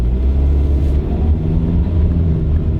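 A used Asian car with 191,000 miles pulls away from a stop sign. Its engine gives a loud, steady low rumble from inside the cabin, rising slightly as it accelerates, with no voices.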